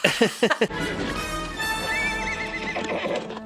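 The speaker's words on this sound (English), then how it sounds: "Indy can't take the plane, so he decides to take a horse instead" Horse from a 1930s-set adventure film chase whinnies loudly, followed by a quick burst of galloping hoofbeats, with a rich orchestral score running beneath and no talk.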